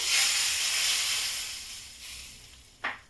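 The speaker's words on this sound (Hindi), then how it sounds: "इसमें मैं तड़का लगा रही हूँ" Hot oil sizzles loudly as tempering spices hit a large kadhai for jackfruit and chana dal, a bright hiss that slowly fades, followed by a short sharp burst of sizzling.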